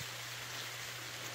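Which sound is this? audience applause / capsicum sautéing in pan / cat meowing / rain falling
rain falling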